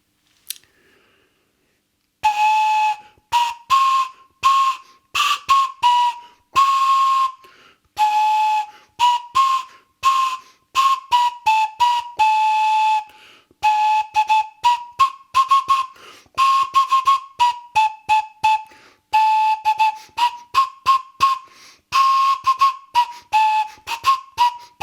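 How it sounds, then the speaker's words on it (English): A breathy, whistle-like three-note flute made from a carrot is blown in many short bursts, hopping between a few close pitches in an uneven, halting rhythm. "That is the carrot flute."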